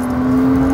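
A Porsche Cayman S speeds up on an open country road, a steady loud engine drone with a strong sustained tone holding throughout the short stretch, no voices over it.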